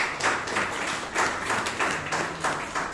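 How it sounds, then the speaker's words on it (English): Audience at a Toastmasters club meeting in Bangalore applauding a speaker and evaluator, a soft, rather distant round of clapping with a pulsing, uneven rhythm throughout. "let us give the speaker and evaluator a good round of applause"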